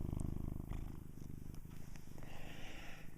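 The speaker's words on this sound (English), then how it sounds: "I wonder if you can hear my cat purring, not Mango there, but this one here" A cat lying in a lap purrs softly and close, a steady low rhythmic rumble pulsing throughout with no talking.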